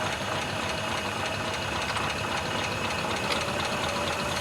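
A 1947 Ford engine fitted with a Holley 94 carburetor idles steadily, a dense, even mechanical chatter with a slight stumble, heard close and alone for a few seconds.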